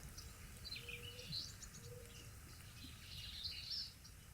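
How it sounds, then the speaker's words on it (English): Faint birds chirp and tweet in short, high calls over a quiet outdoor background hum, distant and intermittent. "A bird."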